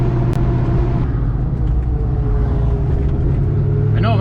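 A 1970 Chevelle with a supercharged LSA engine pulls under load, a loud, continuous deep rumble with steady engine drone heard from inside the car, holding throughout with no gear change.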